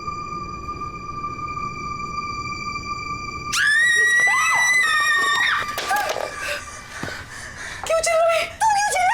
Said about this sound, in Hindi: तुम क्यों चिल्लाई?